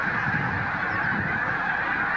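A large flock of wild geese honking continuously as they funnel down toward decoys, a dense overlapping chorus of calls, steady and loud, with no talking.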